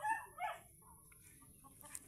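Chickens that have colds cluck faintly in two short bursts near the start, then fall to a quiet, thin background with no voices.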